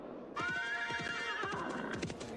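A horse in a video game gives a long, loud whinny over steady clip-clop hoofbeats that keep a regular rhythm throughout.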